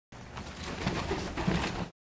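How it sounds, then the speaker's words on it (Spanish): A peregrine falcon flies past with close, airy rushing wingbeats, a steady breathy whoosh lasting under two seconds. "Este es el sonido de un halcón peregrino volando."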